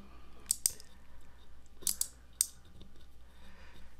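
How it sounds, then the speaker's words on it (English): A mechanical relay switched by a Raspberry Pi clicks crisply several times in small groups, close and fairly quiet against a low hum, with short pauses between bursts. "And you can hear the relay clicking."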